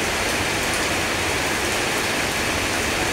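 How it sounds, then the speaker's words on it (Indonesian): Steady rain falls during a hujan downpour, a constant dense hiss of drops with no breaks or changes across the short stretch, and no voices are heard. "suaranya agak berisik karena ini lagi hujan"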